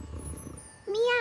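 A single cat meow, drawn out and rising, cuts in near the end after a stretch of low, muffled background murmur.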